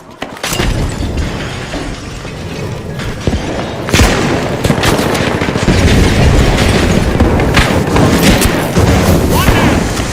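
A frag grenade goes off in a video game shooter match: a sharp boom near four seconds bursts into crackling, shattering debris over a dense barrage of gunfire and explosions that stays loud throughout, with voices talking underneath.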